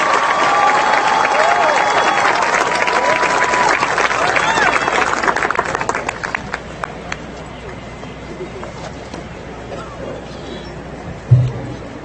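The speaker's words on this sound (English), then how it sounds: "Let's give a round of applause to the students graduating with a bachelor's degree from the School of Sciences." Applause from a graduation audience at a 2014 CBU commencement ceremony rises for science bachelor's graduates, broad and crowded at first, then thins out and fades toward the end.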